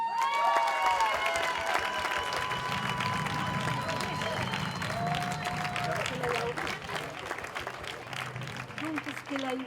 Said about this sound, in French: Donc, peut-être applaudir à Trésia Pambru.